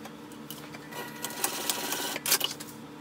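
A sewing machine bastes a strap onto a fabric wristlet in a faint, quick mechanical stitching rattle with a few louder clicks, close by and without speech.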